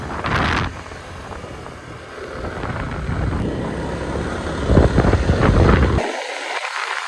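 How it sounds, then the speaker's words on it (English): A vehicle engine labours up a steep jungle road in Thailand, a steady loud rumble mixed with wind buffeting the microphone, swelling near the end before cutting off abruptly. "you can feel the engine struggling, but luckily it seems strong enough"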